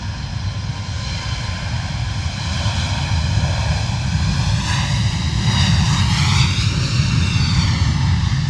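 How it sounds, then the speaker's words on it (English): An Airbus A321neo at Luton Airport spools its jet engines up, a loud, steady, swelling roar with rising whine tones that builds over several seconds; no talking. "Was it A321 Neo spooling up?"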